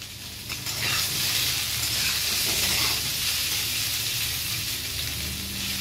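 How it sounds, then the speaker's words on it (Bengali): Boiled potatoes frying in hot oil in a kadai for aloo dum, a loud steady sizzle and crackle with occasional stirring, close and continuous. "কড়াইতে তেল গরম করে না আমি আলুগুলোকে একটু ভাজা বসিয়ে দিয়েছি"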